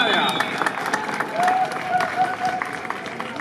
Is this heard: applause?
yes